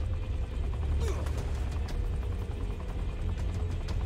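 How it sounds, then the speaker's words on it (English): A helicopter flying in the video game Saints Row the Third, a continuous low rotor rumble and engine drone with scattered sharp gunfire-like pops over it. "I've never flown anything like this thing before. It's called a helicopter."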